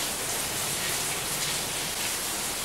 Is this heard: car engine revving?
no